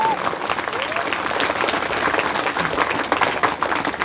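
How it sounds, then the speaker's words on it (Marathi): Audience at a tenth-grade school farewell ceremony applauds its teachers with loud, dense, continuous clapping from a crowd that carries unbroken from start to finish. "इथं आपल्या गुरुवारांसाठी जोरदार टाळ्यांचा आपण आवाज द्यायचा"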